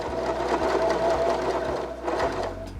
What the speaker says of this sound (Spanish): Bajo el prensatela y voy a coser por la marca que hice.